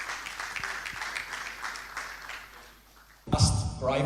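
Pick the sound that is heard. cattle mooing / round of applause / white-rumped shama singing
round of applause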